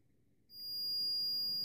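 A multimeter's continuity beep sounds across shorted fuse holders inside an induction stove under repair: a single steady high-pitched tone that starts after a brief quiet moment and holds, close and clear with no voices.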